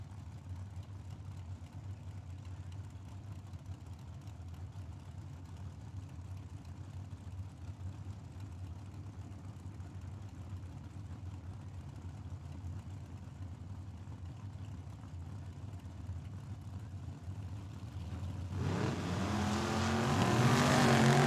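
A dragster and a Chevy Camaro idle with a low, steady rumble at a drag strip, then engines rise sharply into a loud launch in the closing seconds.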